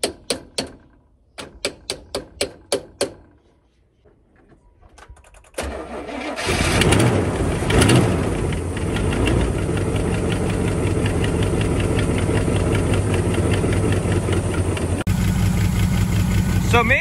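Third-generation Pontiac Firebird V8 cranking several times in short bursts, then catching and settling into a loud, steady idle with a faint ticking valvetrain, close by and without talk.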